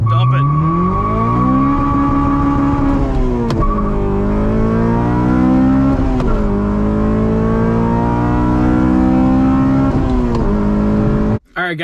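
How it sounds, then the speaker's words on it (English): A Honda car does a two-step launch with the e-brake on and a clutch dump; its engine roars loud and close, holding near a limiter, then climbing in pitch through repeated surges before cutting off sharply. "All right, e-brake, two-step, let it out, dump it."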